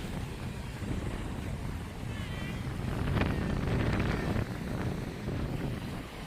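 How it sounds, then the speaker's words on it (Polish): Steady wind rushes across the microphone with a low rumble, swelling slightly midway, while faint water and brief distant sounds sit beneath it, on the coast of Sardinia by a sea cave. "Bo tu jest taki wiatr."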